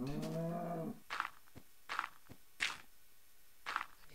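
Cow mooing in the video game Minecraft: one long low moo opens, followed by several short soft thumps and clicks spaced through the rest, with no talking.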